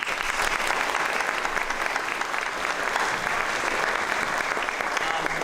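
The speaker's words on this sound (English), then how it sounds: "We could have a round of applause." An audience applauds at a Grade 8 school promotion ceremony, sustained and even clapping from a large crowd with no break.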